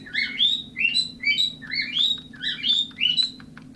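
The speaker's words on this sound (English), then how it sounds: "Shut up, bird." An indoor pet bird chirps steadily in a room, its bright, close tweets repeating in short rhythmic bursts over a low background hum.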